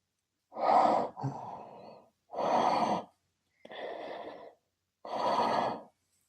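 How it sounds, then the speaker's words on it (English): Heavy, close breathing: five slow, rasping breaths alternating in and out, separated by short silences, with no voices. "Whoever it is, you hear breathing."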